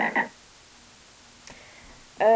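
Two short croaks from a frog, one at the start and another at the end, separated by near silence.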